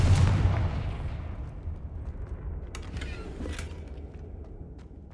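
A Confringo blasting spell goes off in Hogwarts Legacy with a loud, deep boom up close that decays into a long rumbling tail, followed by a few faint crackles.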